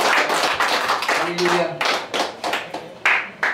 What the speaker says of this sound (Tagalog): Tayo po'y pumalakpak